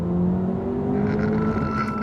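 A 2025 Honda Civic Si accelerates hard from inside the cabin, its engine note climbing steadily in pitch over a couple of seconds with a continuous droning roar and no talking.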